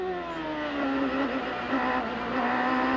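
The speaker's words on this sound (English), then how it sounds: "Hear that raise in the engine." A 1998 CART race car's engine screams on track at Mid-Ohio, heard loud and continuous from onboard, its pitch dipping and then climbing as the driver gets on the throttle.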